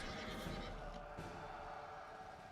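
A horse neighs in the dark fantasy tactical RPG The Prelude Dark Pain, a loud whinny over a dense, steady game score with no pauses.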